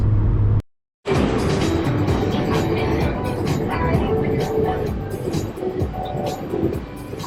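Interior road and engine noise from a car cruising a one-lane highway in Kansas, a steady broad rumble interrupted by a brief silent gap near the start, then continuing with some variation, no one speaking.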